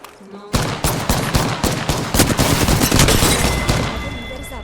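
Gunfire in the Apex Legends video game, a sudden loud burst of rapid automatic shots that keeps going for several seconds, dense and close with heavy overlapping reports, then fades near the end.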